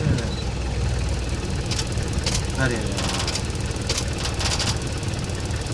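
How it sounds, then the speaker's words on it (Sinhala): A jeep engine idles with a steady low rumble that runs through the whole clip. People talk over it. "නවත්තගෙන ඉන්නේ මේ එන්ජින් සද්දෙට"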